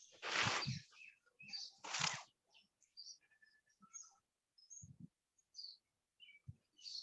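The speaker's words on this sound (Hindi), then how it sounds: "चिड़िया की आवाज आ रही है।" Small birds chirp through an open microphone during an online maths class, scattered bright tweets and short calls in separate bursts among quiet gaps, fairly close and clear.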